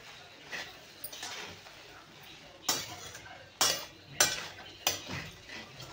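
Poha with onion, tomato and peanuts sautéed in a pan, spatula scraping and clinking against the metal in several sharp strikes over a soft background sizzle, with no talk.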